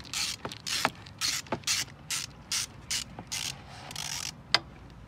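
A ratchet wrench loosens the spark plug on a misfiring, rough-idling Suzuki Lets scooter, giving a steady series of short clicking ratchet strokes, close and fairly loud, with no talking.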